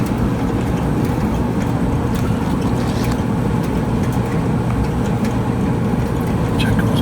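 A Kenmore clothes dryer drum spins steadily after a belt replacement, giving a loud, continuous rumbling whir with faint rattles and ticks layered on top, unbroken for the whole stretch.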